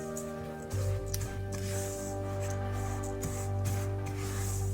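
Spoon stirring dry ingredients for Anzac biscuits, coconut among them, in a bowl: continuous soft scraping and rustling up close, over a steady low hum from the kitchen.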